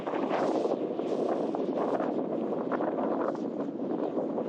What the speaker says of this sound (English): Wind is pretty crazy right now.